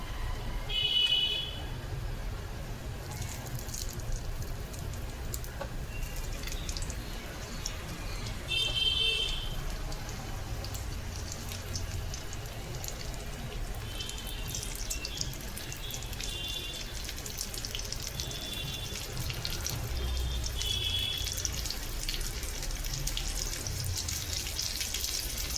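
Stuffed bitter gourds frying in plenty of oil in a kadhai: a steady, moderately loud crackling sizzle runs throughout, with a few brief higher clinks.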